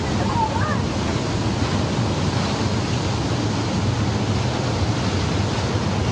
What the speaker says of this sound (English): Just look at the power of that water. It's like, it's so impressive, and you can feel the thunder of it hitting the bottom